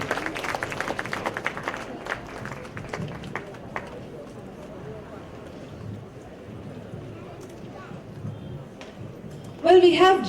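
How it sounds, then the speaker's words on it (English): Audience applause at the Bangalore Literature Festival stage, a dense burst of clapping at the start that fades into a quiet hall murmur, with a voice speaking briefly near the end. "we welcome you with a round of applause onto the Bangalore Literature Festival stage"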